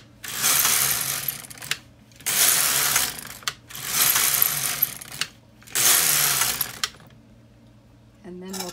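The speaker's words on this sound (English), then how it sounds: "Now we'll knit about 8 rows of waste yarn." An LK 150 knitting machine carriage sweeps back and forth across rows of waste yarn: four long, loud rasping passes, each lasting about a second and a half, separated by short pauses.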